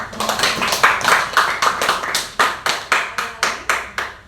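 A small counseling group in a session claps in unison, sharp, evenly spaced beats in a steady rhythm that grow more distinct toward the end.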